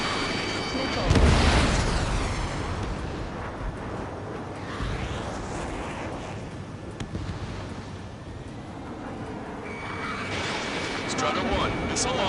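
Missile launch and explosions in Ace Combat 7 aerial combat, a roaring burst followed by sustained rumbling jet and blast noise with wind-like rush, while radio voices talk over it.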